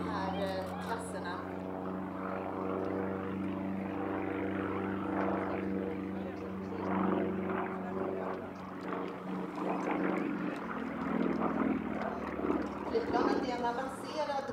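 A Sukhoi Su-31 aerobatic propeller plane with a powerful engine drones steadily at an air show, its sustained, moderately loud hum running under continuous talk throughout.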